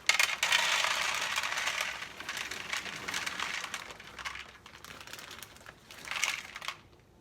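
Crinkly plastic food packaging bag being opened, bursts of crackling rustle that fade and return briefly near the end, quiet and close.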